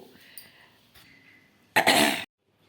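A single harsh cough bursts out near the end after soft breathing noises, then silence.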